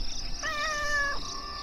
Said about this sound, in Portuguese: Estes são os gatos ferais.